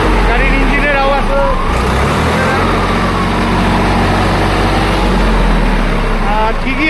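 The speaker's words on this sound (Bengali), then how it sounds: "গাড়ির ইঞ্জিনের আওয়াজ" A second-hand tractor engine runs at idle in West Bengal, a loud steady rumble close by, with people talking over it throughout.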